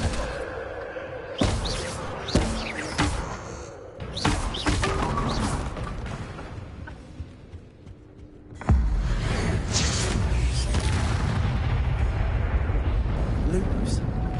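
A Bombarda blasting spell goes off in Hogwarts Legacy. A sudden loud burst is followed by a sustained, roaring rumble, and a voice is heard beforehand among scattered thumps and whooshes.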